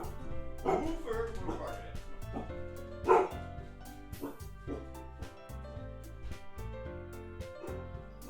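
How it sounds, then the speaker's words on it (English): A dog barks in a video game, a few yips and woofs under game music and the close voice of a player talking over it. "I've got a woofer over here. A woofer! A woofer!"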